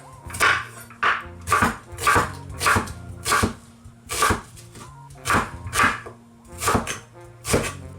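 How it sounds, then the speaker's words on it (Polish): A knife chops a large onion into big cubes on a cutting board, about a dozen firm, evenly spaced thuds close by with no talking. "I ją kroimy w dużą kostkę"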